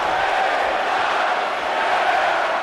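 Wrestling arena crowd cheering in the WWE 2K24 video game, a steady, dense roar of many voices, continuous and fairly loud, with a commentator's voice faintly mixed in.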